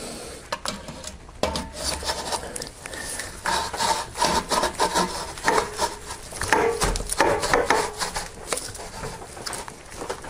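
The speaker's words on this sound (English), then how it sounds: "Now I'm going to slide the pipe on." A Delkevic exhaust pipe coated with assembly compound slides onto a Kawasaki Concours 14, making close, repeated scraping and rubbing of metal on metal in uneven bursts.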